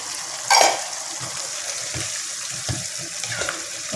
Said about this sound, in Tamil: இப்போ தண்ணி கொஞ்சம் ஊற்றுறேன்.